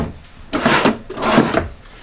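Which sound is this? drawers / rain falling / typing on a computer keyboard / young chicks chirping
drawers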